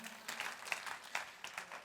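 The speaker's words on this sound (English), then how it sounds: "Give Stephen and Craig a big round of applause." An audience at a health talk gives a brief, soft burst of applause, with scattered claps heard at a distance.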